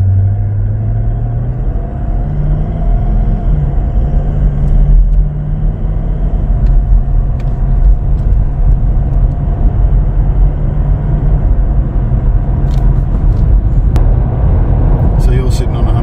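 A Toyota 200 Series with an HPF power upgrade and transmission tune accelerates at partial throttle, a steady loud engine rumble with road noise building continuously while people talk inside the cabin.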